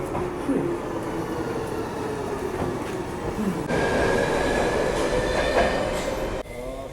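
A train rumbles and clatters close by, with rhythmic wheel noise and a high squeal, growing louder before the sound shifts abruptly near the end.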